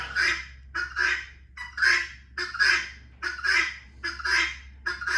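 Guinea fowl call again and again in loud, harsh bursts of chattering cries, roughly two per second, close by in a garage during a 2022 Ford Maverick transmission fluid drain, with a low steady hum underneath.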